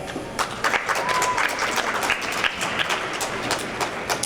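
An audience claps steadily at a young authors' contest award ceremony, a sustained, even wave of applause from many hands filling the room, with a voice faintly under it.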